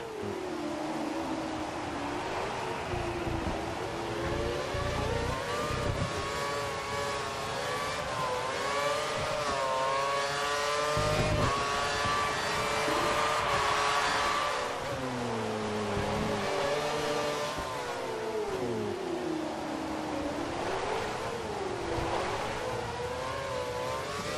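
Onboard F1 car in the racing game F1 2013 at Spain, its engine revving continuously and loudly, pitch climbing and dropping through gear changes and corners, with a steady high-pitched whine throughout.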